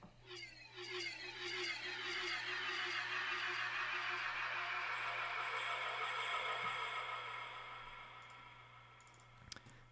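Korg Wave Station Splashdown patch sampled and pitched down, a slow, darker swelling wash of rippling tones that builds, sustains for several seconds and fades, ending with a few faint clicks.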